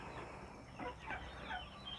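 Chickens cluck softly in short bursts while scratching through a pile of fallen leaves being turned into compost, faint and intermittent against quiet background noise.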